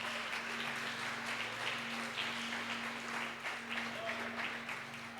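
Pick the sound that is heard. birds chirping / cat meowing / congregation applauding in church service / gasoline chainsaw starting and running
congregation applauding in church service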